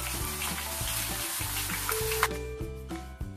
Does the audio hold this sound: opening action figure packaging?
no